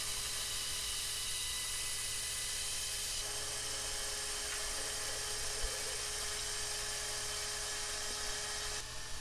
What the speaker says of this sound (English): I take the bone blank material down to the garage and cut it roughly to length on my bandsaw